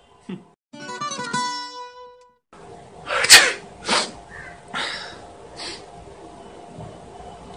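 A loud, sharp sneeze bursts out after a brief stretch of other sounds, followed by a few breathy snorts and sniffs.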